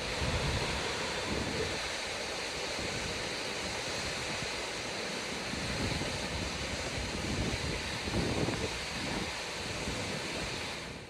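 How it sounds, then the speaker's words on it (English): A waterfall on a creek falls trail in the Pacific Northwest roars steadily, a dense broad rushing wash of falling water that fills the whole scene with no voices over it. "this is like the quintessential waterfall you could imagine if you just picture a waterfall"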